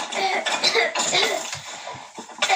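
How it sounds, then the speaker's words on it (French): A burst of several rough, close coughs in quick succession, loud and raspy. "J'ai toussé."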